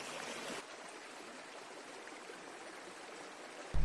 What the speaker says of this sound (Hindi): अब गदेरा आ चुका है।